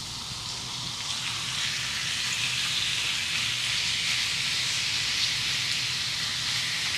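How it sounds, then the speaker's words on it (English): Oil sizzling in a pan as chicken sears, a steady, even hiss with no breaks, fairly quiet and alone with no one speaking. "Let's see if we can get that sizzle sound."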